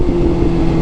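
A Suzuki GSX-R motorcycle engine holds a steady, loud, close rumble through a brief throttle blip, with no voices.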